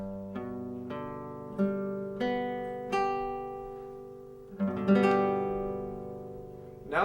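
A guitar chord for beginners rings out quietly and close: several strings are picked one after another, each note ringing on, then all strings are strummed together and left to decay, with no talking.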